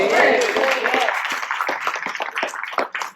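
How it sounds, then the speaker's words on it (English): Audience applause fills a Comic Con panel hall in Los Angeles, a dense burst of clapping that gradually thins out and fades over about three seconds. "can we get a round of applause"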